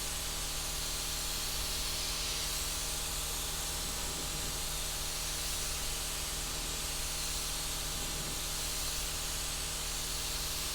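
A spray gun lays a paint fade across a custom candy-and-chrome flake paint job. The hiss is close, loud and continuous, holds steady for the whole stretch and has a faint low hum underneath it.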